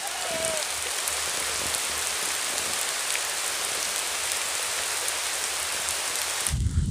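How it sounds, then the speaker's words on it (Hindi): Rainwater drips and patters steadily from a tree overhead, a dense, even hiss of drops close by that continues throughout. "ये देखो भाई ऊपर से पानी किस तरह टिप कर रहा है"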